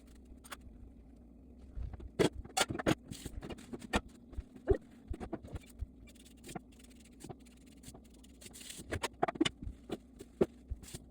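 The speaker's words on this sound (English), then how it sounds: "my mom is chopping food in the background" Food is chopped in a kitchen in the background, heard as faint, irregular sharp knife taps on a board, scattered singly and in short bursts over a quiet room hum.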